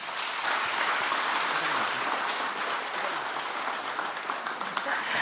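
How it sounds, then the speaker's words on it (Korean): A crowd at a Parents' Day ceremony gives warm, sustained applause, a thick, even patter of many hands filling the room throughout. "여러분 다시 한번 뜨거운 박수 부탁드립니다"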